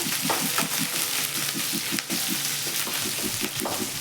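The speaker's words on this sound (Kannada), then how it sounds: "ಹಸಿಮೆಣಸಿನ್ಕಾಯಿನ ಚೆನ್ನಾಗಿ ಫ್ರೈ ಮಾಡ್ಕೋಬೇಕು." Green chillies fry in hot oil in a pan with a steady, dense, fairly loud sizzle and crackle that continues throughout, with a few stirring bumps and no voices.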